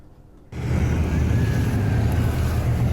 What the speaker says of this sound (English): Motorcycles everywhere.